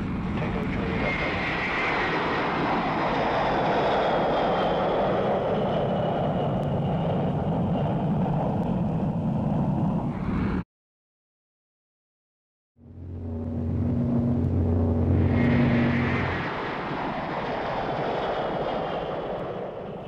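An airliner takes off, its engines making a loud sustained roar and rushing wind, broken by a brief silence, then the roar returns with a low rumble before easing slightly.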